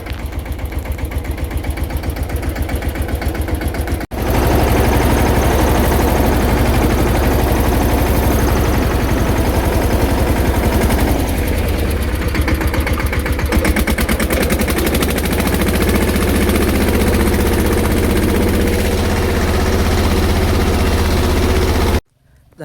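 A tractor engine runs loud and close on a farm during pesticide spraying, a steady rattling drone that drops out briefly near the start and then continues unbroken until a sudden cut at the end.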